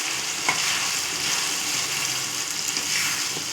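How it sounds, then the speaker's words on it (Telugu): Raw mango pieces and ripe red chilies frying in a pan for chutney, giving a steady, close hiss and sizzle with faint stirring scrapes throughout and no talk. "మామిడికాయ మరియు పండు మిర్చిని వేసి ఒక 2 minutes ఈ పచ్చి వాసన పోయే వరకు ఉంచి దించేస్తే"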